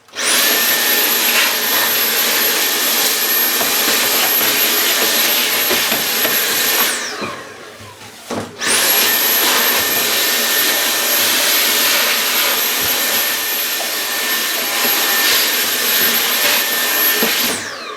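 A household vacuum cleaner runs loud and steady with a high whine, cleaning up potting debris after two Miltoniopsis orchids are repotted, briefly cutting off and restarting partway through.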